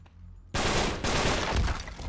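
Gunfire in the video game Uncharted: The Nathan Drake Collection, a sudden loud burst after a quiet moment, then sustained dense rapid shooting with a brief dip near the middle, no talk over it.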